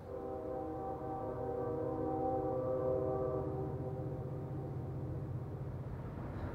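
CSX locomotive 693 blowing its multi-tone horn for a grade crossing near Tow River Siding in the Blue Ridge Mountains, a sustained distant chord over a low rumble, held steadily for several seconds.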